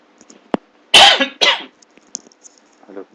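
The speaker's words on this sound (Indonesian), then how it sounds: "Aduh, mohon maaf, saya sedikit batuk ya." During an English class, a person gives two or three loud, close coughs in a row, with a brief throat sound before them and faint voices and murmurs around them.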